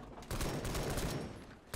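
Rapid gunfire from an armored car in a World War One action video game, a dense fusillade of fast repeated shots blending into continuous loud rattling with little pause.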